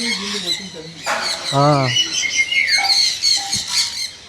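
Many birds call and squawk in a park aviary, bright chirps and harsh squawks overlapping continuously at close to mid distance, with a voice speaking briefly among them.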